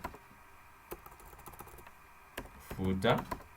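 Brief clicks of file-name typing on a computer keyboard while creating a footer component file in a Next.js code editor, a few sparse keystrokes followed by a denser cluster near the end, close and fairly quiet.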